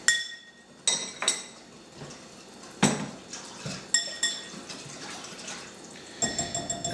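A utensil clinks and taps against a bowl while minced garlic is mixed into fish brine, giving a string of sharp, bright knocks with short ringing tails, spaced irregularly and then in a quick cluster near the end.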